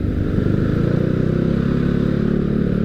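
Honda Spacy scooter engine running, a close, steady pulsing putter with a buzzy mechanical clatter, holding an even idle-like rhythm throughout without talk.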